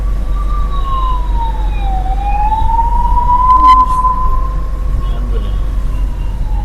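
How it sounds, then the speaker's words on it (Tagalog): Ambulance siren wailing with a slow, rising and falling tone over a steady low rumble of road traffic, continuous and fairly prominent throughout. "Ambulance."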